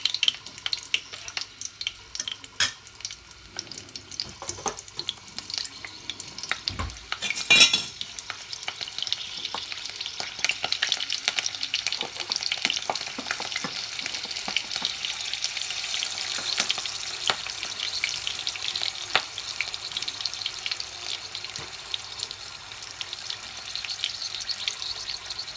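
Three whole dried red chilies fry in oil with cumin seeds, giving a steady, bright sizzle throughout, with a sharp clatter of stirring near the start and the crackle growing louder later on.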